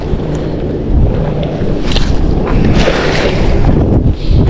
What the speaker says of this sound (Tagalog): Sana kumalma yung hangin